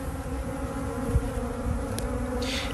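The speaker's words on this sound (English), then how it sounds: "These bees are ready to get after it." Honey bees at open feeders of sugar syrup and pollen substitute buzz steadily in a dense, continuous hum, close and fairly quiet, with a few brief louder passes.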